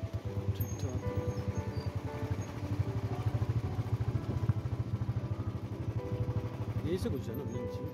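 A motorcycle engine runs steadily nearby with a rapid, even low throb, parked by a river near Naddi in the Himachal hills, and people talk over it throughout.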